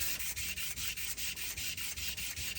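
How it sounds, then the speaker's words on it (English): Fine 320-grit sandpaper rubs by hand across a custom pendant in quick, even back-and-forth strokes, close and fairly loud, a steady rhythmic scratchy hiss with no voices. "I'm going to switch over to a 320 sandpaper. And let's smooth that front"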